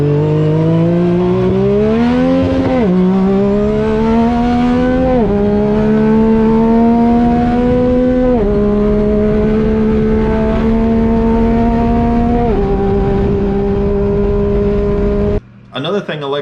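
A Yamaha YXZ 1000R SS sport-shift side-by-side rips through its gears, the engine note climbing and dropping sharply at each quick shift, loud and close throughout, with a brief cut near the end.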